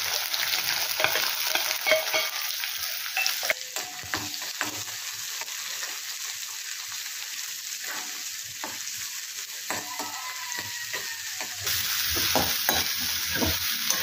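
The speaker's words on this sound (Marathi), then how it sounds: "व्यवस्थित असा तेलात आपण तो परतून घेणार आहोत." Onion browning in oil for a sprouted moth bean dal curry, sizzling steadily and close for the whole stretch, with frequent stirring scrapes and clinks of a spoon against the pan.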